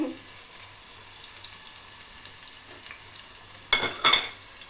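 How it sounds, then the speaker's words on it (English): Chopped onions dropped into a hot pan burst into a loud sizzle near the end, after a quiet stretch of low kitchen hum. "And then now I'm going to add onions that I chopped. Okay, it's going to make noise."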